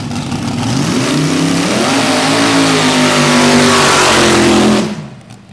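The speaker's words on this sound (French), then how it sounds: "il règle son moteur au moment où il va partir" A race car engine at a run meeting revs hard and steadily climbs in pitch, a loud, close, continuous roar that cuts off sharply at the end.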